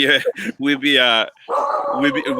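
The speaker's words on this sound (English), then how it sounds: "my dog is getting crazy now" A dog barks repeatedly and excitedly near the microphone in a home during an online conversation, with loud, rapid barks and yips filling most of the moment.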